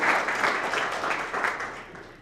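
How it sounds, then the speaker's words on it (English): An audience at an evening conference reception and panel discussion claps for a panelist, a full, even round of applause that starts strong and slowly tapers off, with no talk. "Applause for Alex Kim."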